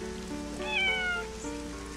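A person's voice imitates a cat with a single drawn-out meow that rises and falls, over a faint background hiss.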